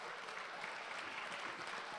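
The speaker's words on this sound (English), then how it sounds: "Please give them another big round of applause." An award ceremony audience claps continuously, a faint, even wash of applause in a large hall with no break.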